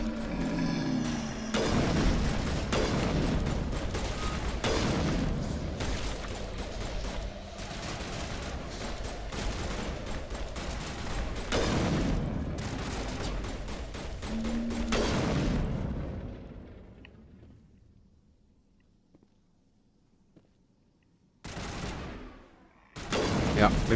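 Heavy weapon gunfire in Mass Effect, loud rapid bursts and booming shots for about fifteen seconds, then a quiet lull before a few more sharp shots near the end.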